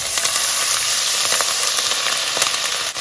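Whole spices and grated garlic, a bay leaf, cardamom pods, a cinnamon stick and cloves, fry in a pan with a steady, close, bright sizzle. A few sharper crackles and pops stand out along the way.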